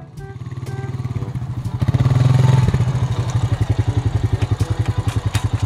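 A motorcycle pulls up nearby with a short rev, then drops to a steady, close, thumping idle with a rhythmic putter. No one speaks.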